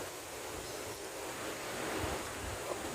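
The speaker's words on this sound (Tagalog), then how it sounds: "Oh, lakas ang hangin, no." A steady, roaring rush of strong wind buffets the microphone, with no voices.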